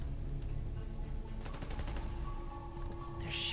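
Rapid automatic gunfire from enemies in the video game Spider-Man: Miles Morales, a steady crackling burst running through the whole stretch beside game music and effects, loud and continuous.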